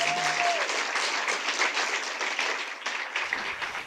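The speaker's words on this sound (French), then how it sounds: "Oui, je crois qu'on peut l'applaudir parce que..." A conference audience applauds at the opening of a psychiatric care research meeting, sustained many-handed clapping heard at moderate volume that thins slightly toward the end, after a brief electronic tone at the start.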